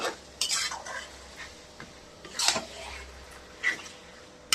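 A spoon stirs mutton curry with chopped tomato in a pot, giving intermittent scrapes and metallic clinks over a low steady background hiss, moderately close and without talking.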